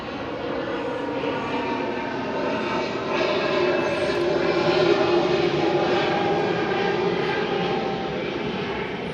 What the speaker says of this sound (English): So here comes another plane.